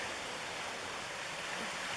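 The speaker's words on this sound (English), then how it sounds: "Here's the little stream" A small stream near a lake in Sitka, Alaska, flows with a steady, even wash of running water that stays constant throughout, with no voices.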